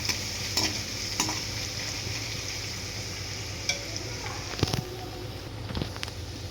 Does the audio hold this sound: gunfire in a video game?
no